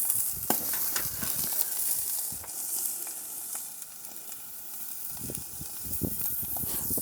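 Squid sizzles and spits in a very hot pan, a steady close frying hiss with scattered pops and crackles, briefly quieter midway before rising again; no talking.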